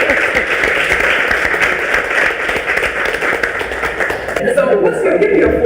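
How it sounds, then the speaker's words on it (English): An audience applauds at a live hair-care talk show taping, a dense steady wash of clapping that continues throughout and thins near the end. "Just give her a round of applause."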